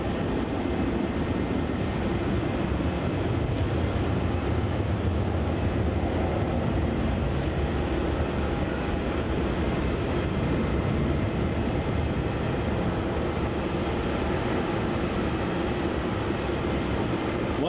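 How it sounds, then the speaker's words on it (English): A Jetstar Airbus A320-200 takes off at Melbourne Airport, bound for Canberra, with a steady, loud, broad engine roar that holds unbroken throughout and no talking. "taking off now, we have Jetstar flight JQ654 heading off to Canberra. An A320-200."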